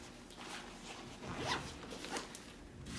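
A fanny pack zipper pulled closed in a couple of quick zips, close and quiet, with no talking.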